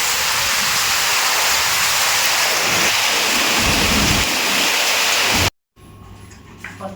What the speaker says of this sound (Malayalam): നിങ്ങൾക്ക് സൗണ്ട് കേട്ട് അറിയായിരിക്കും നല്ല മഴയുണ്ടെന്ന്